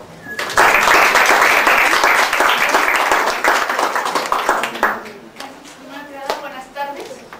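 An audience at a school biology lab presentation breaks into loud, dense applause that gradually thins out, and a voice speaks over the last scattered claps.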